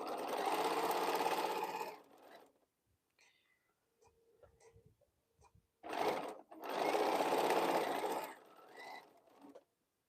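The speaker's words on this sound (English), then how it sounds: "I'm just going to sew these together." A sewing machine stitches quilt fabric pieces together in two bursts of steady whirring, separated by a quiet pause filled with faint handling clicks.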